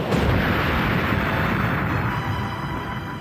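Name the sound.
torpedo explosion hitting USS Indianapolis magazine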